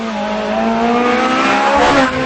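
A Ferrari F430 Scuderia engine revs hard and close, a loud, steady rising howl with a brief dip near the end hinting at a quick gear change.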